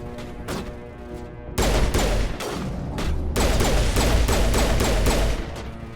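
Rapid gunfire from the Mass Effect video game, loud bursts of shots and impacts that thicken into a dense, continuous barrage after a brief lighter opening.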